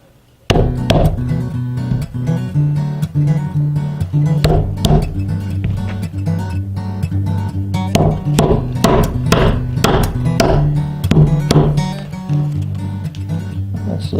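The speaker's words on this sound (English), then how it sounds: "To start off, I have my 1-inch framing chisel here." Repeated hammer blows drive a 1-inch framing chisel into timber for a workbench, loud and close, striking in a steady series of sharp knocks for the whole stretch with no talking.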